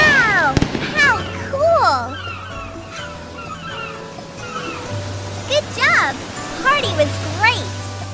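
Cartoon fireworks in a children's summer video game, whistling rising bursts and pops repeated several times over light game music.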